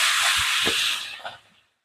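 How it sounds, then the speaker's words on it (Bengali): Fish hits hot oil in a wok and sizzles loudly in a broad hiss that fades out over about a second and a half. "এবার আমি মাছগুলো ছেড়ে দেবো তেলের মধ্যে"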